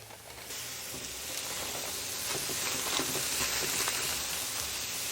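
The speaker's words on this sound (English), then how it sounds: "Now I've got my patties, and I'm gonna put them right here on my griddle." Burger patties laid on a hot griddle, a close, steady sizzle that swells into a dense crackling hiss and holds there with scattered pops.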